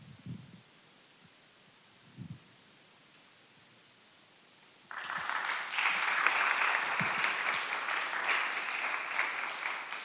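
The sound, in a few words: audience applause for a panel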